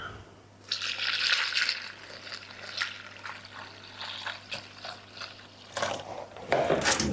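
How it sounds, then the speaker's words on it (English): A litre of water is poured into a baker's yeast mix for a homemade slug trap, giving a splashing, trickling pour with bursts of louder gushing and irregular clattering, close by. "I'm going to just add a litre of water."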